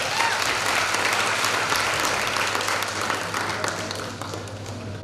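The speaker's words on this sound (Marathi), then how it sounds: "सरांसाठी जोरदार टाळ्या" An audience at a college gathering and singing competition applauds a teacher with sustained, dense clapping that fills the room evenly for several seconds, loud and continuous, with faint crowd noise beneath.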